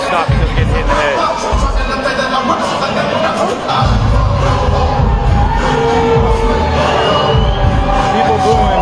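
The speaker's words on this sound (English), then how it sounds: "People booing" Crowd at a live Muay Thai fight booing, a loud sustained roar of many voices filling the whole stretch with no pause, dense and close.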